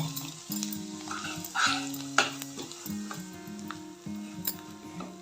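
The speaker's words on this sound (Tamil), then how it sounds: "திராட்சையும் வறுத்து எடுத்துக்கலாம்." Raisins fry in a pan for aval kesari, a light sizzle under repeated stirring and scraping clicks, close and fairly quiet, with no talking.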